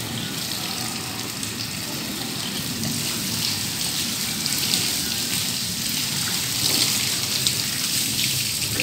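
Steady, dense hiss of water spraying onto a 2020 Toyota Fortuner TRD Sportivo during detailing, continuous and close for the whole stretch with no talk.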